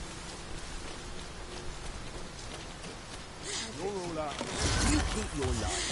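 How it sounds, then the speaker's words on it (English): A steady rain downpour hisses across a battle scene in Dragon's Dogma 2, with character voices speaking over it and the noise swelling louder near the end. "Must we do battle amidst this dreadful downpour?"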